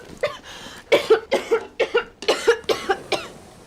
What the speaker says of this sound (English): Why is she coughing?